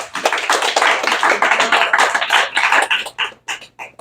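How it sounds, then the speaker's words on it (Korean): Applause from a group at a company awards ceremony, close and brisk clapping that thins out into a few scattered claps at the end. "박수 한번 주세요."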